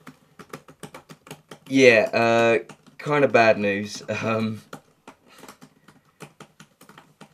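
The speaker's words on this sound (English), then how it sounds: "I'm typing." Typing on a computer keyboard: rapid, close key clicks in an uneven patter that run throughout, briefly masked by a person talking in the middle.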